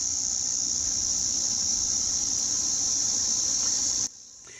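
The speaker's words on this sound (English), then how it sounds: "These are the loudest cicadas I've ever heard in my life." A loud, steady, high-pitched buzzing drone of cicadas near a beach at Bermagui fills the air without pause, then cuts off abruptly near the end, leaving quieter background.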